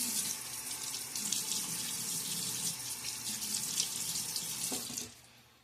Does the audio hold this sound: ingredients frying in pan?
no